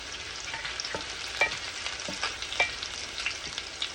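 Chopped garlic sautés in a pan for a side dish, giving a steady sizzling crackle with occasional louder stirring scrapes and pops, heard close up with no talking.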